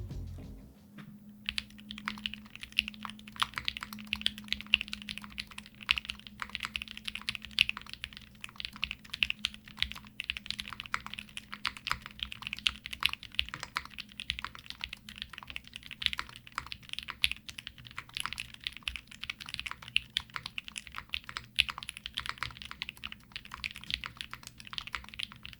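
Steady typing on a Haven TKL mechanical keyboard fitted with KTT Rose switches and GMK Momoyume keycaps: a dense, continuous patter of close, crisp keystrokes with no talking.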